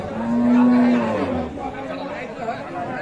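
Holstein Friesian cows low at a busy cattle market, one long loud moo near the start followed by softer bovine calls amid crowd chatter and voices.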